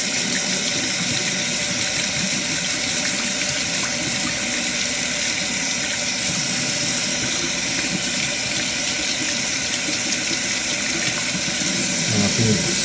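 Water runs steadily from a bathroom tap into the sink while a laser-marked surgical instrument is washed, a continuous close hiss that lasts throughout with no talk.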